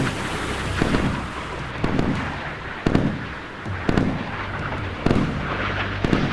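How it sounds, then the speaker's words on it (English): Harpoon missiles launch one after another in a naval combat video game, each a sharp booming burst roughly a second apart over a continuous rumbling background. "Harpoons. You have the first rocket launch."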